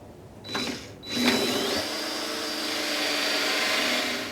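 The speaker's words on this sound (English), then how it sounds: "So we're going to go in and drill a hole in each corner" A power drill with a Forstner bit spins up with a rising whine, pauses, then bores steadily in a sustained, close, grinding drone.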